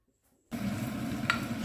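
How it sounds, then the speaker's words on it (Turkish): Tomato paste frying in a spoonful of oil in a pan, a steady soft sizzle that starts abruptly after a brief quiet moment, with a single small scrape or clink partway through. "Şöyle salçamızın çiğ kokusu çıkana kadar hafif kavurduk, kavurduk arkadaşlar."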